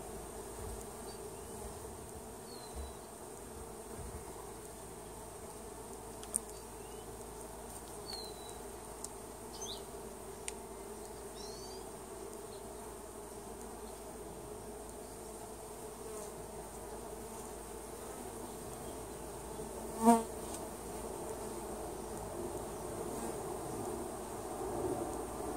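Honeybees hum in an open hive during an inspection, a steady low drone running throughout with a brief sharper buzz near the end, faint and continuous with no speech.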